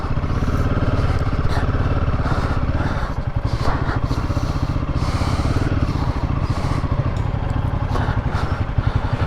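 Royal Enfield motorcycle ridden on a mountain road in Leh, its single-cylinder engine thumping steadily and loud close up throughout, with a rhythmic low pulse and wind noise over it.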